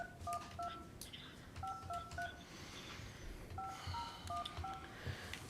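Telephone keypad tones in short groups of paired-pitch beeps, dialed during a county commission meeting over a steady room hum, with no talking.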